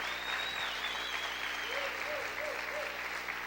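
Steady applause from a church congregation, dense and sustained throughout, with a faint voice briefly audible over the clapping.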